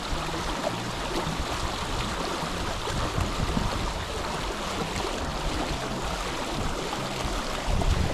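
A winter creek runs steadily with ice chunks drifting downstream, a loud, continuous wash of water close by with no voices.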